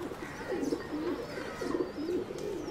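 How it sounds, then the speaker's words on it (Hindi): Pigeons near burnt cages give soft, repeated low coos in a steady rhythm, fairly close over a faint background hum. "कबूतर जले हुए पिंजरों के पास लौट के नहीं आते ना, फिर ये काहे को आ गए?"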